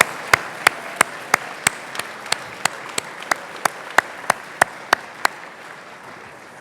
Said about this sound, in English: if you give them a big round of applause